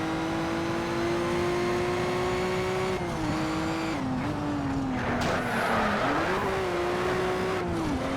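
A Mazda RX-8 in the racing video game Need for Speed: Shift, its engine a steady high revving drone that rises and dips with gear changes, with tyre squeal and scraping noise mixed in, loud and continuous.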